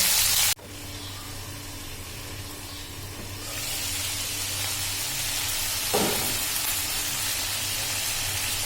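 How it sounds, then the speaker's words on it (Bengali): Chicken pieces frying in a covered pan for chicken shashlik, a steady close sizzle and hiss that swells louder partway through, with a brief clatter near the end and no talking. "হালকা আছে ঢেকে এটাকে ফ্রাই করব।"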